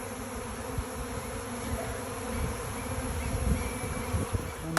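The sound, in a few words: honey bee swarm buzzing on a farm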